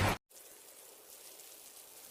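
Steady rain falling, a soft continuous hiss of drops spread evenly throughout, briefly interrupted by a short cut at the start.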